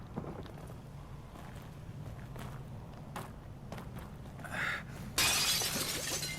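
Glass shatters in the survival horror game The Evil Within, a sharp crash near the end amid scattered footsteps and clicks in a quiet, echoey game environment.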